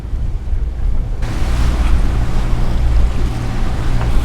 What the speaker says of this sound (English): We're still motoring at this point, close to the coast of Puerto Rico.